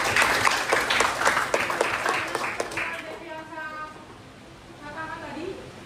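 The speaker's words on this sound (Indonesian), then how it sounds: "beri tepuk tangan buat Devi Ansam." An audience at an Indonesian classroom presentation applauds, a dense clatter of clapping that fades after a few seconds into quieter chatter and background voices.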